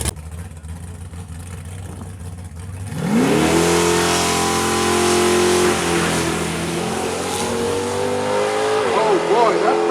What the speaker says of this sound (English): Oh boy, that car is going.